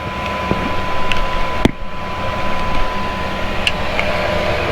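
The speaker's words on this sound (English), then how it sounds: "So you can hear a bit of fan noise now, because that's where the diesel heater is." Steady broadband fan whoosh from a Chinese diesel heater runs close and continuous throughout, with a few sharp clicks and knocks on top and no talking.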